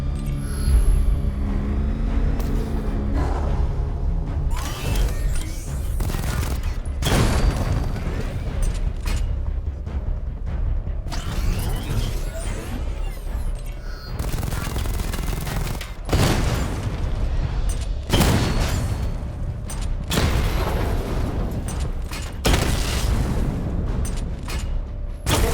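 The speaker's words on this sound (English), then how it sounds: "Destroy targets to charge up weapon energy and activate missile barrage." Missile barrage and gunfire in the video game Batman: Arkham Knight, a steady loud run of booming blasts and rapid bursts with repeated heavy impacts throughout, under a dense game soundtrack.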